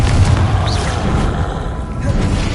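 The Confringo fire-blast spell in Hogwarts Legacy hits with a dense, rumbling boom that fills the moment, loud and sustained with game combat noise around it.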